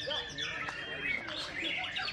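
A white-rumped shama (murai batu) sings at a bird gathering, rapid varied whistles and chirps in quick phrases, fairly faint, with people talking at the same time.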